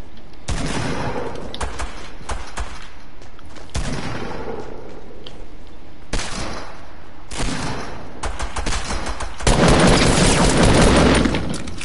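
Video game gunshots ring out in repeated bursts and volleys, loud and sharp, with a dense stretch of rapid fire near the end.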